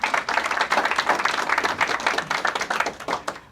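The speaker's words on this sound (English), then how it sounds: "I see Chazaq got a better applause than I did" An audience at a rabbi's talk on dating and marriage claps in a short, lively burst of close, crisp hand claps that stays fairly even in strength.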